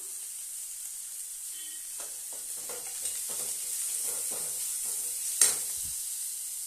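Finely grated cabbage being tipped into a hot pan and stirred, sizzling steadily with soft scraping strokes and one sharp clack near the end, close up.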